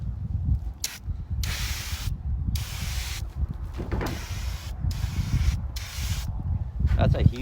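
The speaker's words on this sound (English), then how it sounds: "That's a huge fan just for a little spray paint can." A Rust-Oleum Turbo Can sprays paint onto a welding bed in a series of loud, close hissing bursts, each lasting under a second to a couple of seconds with short pauses between them, over low background rumble.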